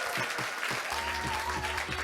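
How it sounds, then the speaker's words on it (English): A crowd claps steadily after a youth performance at the 2021 P4G Seoul Summit Green Future Sessions, a dense, even round of applause lasting throughout. "Please join me in giving them a big round of applause."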